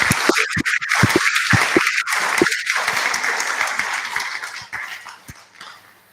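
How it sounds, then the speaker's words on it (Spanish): Audience applause for a speaker after an astronomy lecture: broad, uneven clapping from a room of listeners, strongest at first and gradually fading over about six seconds. "agradezcámosle a Iván con un aplauso"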